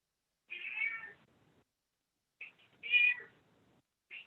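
A house cat meows during an online commission meeting: a drawn-out meow, then a short chirp and a second louder meow a couple of seconds later, with a clipped start of another at the end, all clear against near silence.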